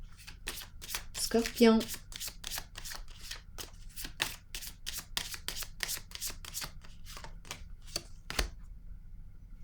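Tarot cards being shuffled and drawn, a rapid riffle burst followed by a run of crisp, evenly spaced card flicks and taps, heard close and under steady talk.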